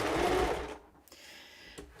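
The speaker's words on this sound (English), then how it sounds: "you're going to get a bit of sewing machine ASMR now" A domestic sewing machine stitches fabric in a loud, fast burst of motor whirr for under a second, then stops, followed by a couple of faint clicks.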